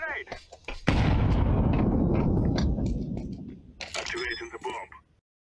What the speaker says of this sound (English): I've thrown a grenade.